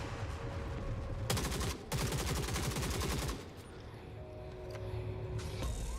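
Sustained rapid automatic gunfire from a fight with turrets in the video game Forever Winter rattles in a dense burst, then drops away to quieter background gunfire.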